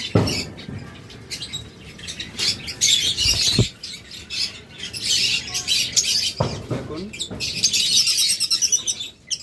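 Pair of blue lovebirds chirping, a stream of high, rapid tweets and squawks in bursts throughout, fairly close, with a couple of sharp knocks mixed in.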